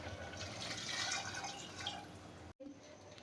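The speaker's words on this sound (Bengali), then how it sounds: "পরিমাণ মতো জল দিয়ে দিচ্ছি।" Water pours into a pot of rice with ginger while cooking, a steady close splashing and trickling that stops abruptly near the end, with no talking.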